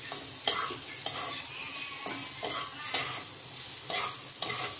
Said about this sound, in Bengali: আমার কাছে গাজরটা একটু নেড়ে নিলে ভালো লাগে, তাই আমি গাজরটা নেড়ে নিচ্ছি।